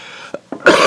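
A person coughs: two short, muffled coughs a moment apart, then a louder, harsher burst that runs to the end, close to the microphone.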